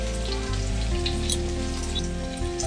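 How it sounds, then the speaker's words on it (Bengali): Taro pieces fry in an oil-filled pan alongside shrimp preparation, giving a steady, close, continuous sizzle with a low hum underneath and a slight shift in tone partway through; no one speaks. "গাটি কচুটা আমার ভাজা হয়ে গেছে"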